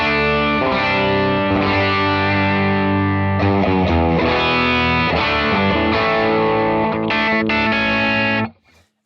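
Electric guitar through an FM9 AC Deluxe amp model, bridge humbucker, playing a sustained, driven passage of ringing chords and notes, loud and close, alone for about eight seconds before stopping abruptly.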